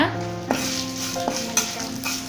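Dried red chillies roast in a pan while cabbage chutney is being made, giving a steady close sizzle with a few sharp stirring clinks and scrapes over a faint tonal hum.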